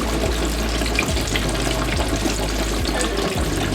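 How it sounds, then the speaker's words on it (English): Pork chops coated in mayonnaise and mustard fry one at a time in a deep fryer at 350 degrees, giving a steady, loud, dense bubbling hiss that runs without a break. "I don't want to overcrowd them, but I'm in the deep fryer."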